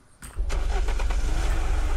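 Car engine in the video game Unturned starting up and then running steadily, a loud low rumble that rises sharply after a brief quiet start and holds, with no talk.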